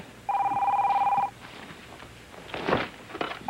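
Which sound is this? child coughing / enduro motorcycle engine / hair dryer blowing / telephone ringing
telephone ringing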